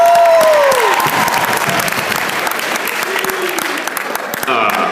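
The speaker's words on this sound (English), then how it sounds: "Everybody give Mr. McDonough a round of applause." A comedy club audience claps and cheers for a stand-up comic, with dense, loud, sustained applause filling the room while a voice speaks over it.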